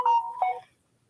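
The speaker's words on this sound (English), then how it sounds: "my phone keeps buzzing" A mobile phone gives a short electronic alert of two quick tones, close and clear, then falls silent with no voices.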